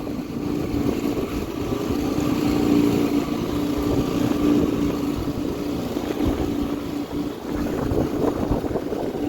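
A steady, droning 9.9 horsepower outboard motor runs continuously, with rushing wind and water noise over it and no voices, on Georgian Bay.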